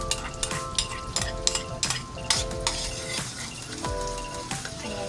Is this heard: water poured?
no